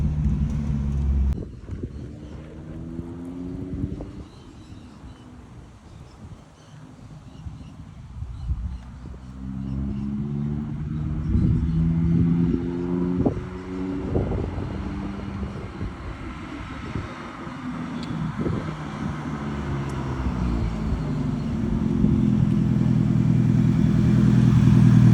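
Old minitruck engine with a blown head gasket running unevenly, a rough low drone whose pitch wavers and rises and falls in uneven surges, growing louder and steadier toward the end, with wind noise over the microphone.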